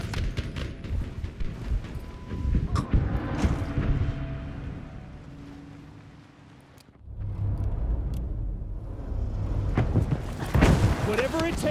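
Heavy artillery shells land and explode in a chaotic Battlefield 5 Pacific battle, booming rumbles and crackling blasts rolling continuously amid gunfire and radio chatter, with a brief lull before the barrage swells again loudly near the end.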